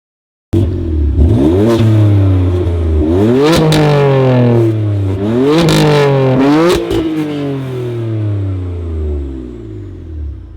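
A BMW M2 (F87) engine revs hard several times in a row, the exhaust rising and falling in pitch, loud and close, with the exhaust valve closed, then settling to a rumbling idle.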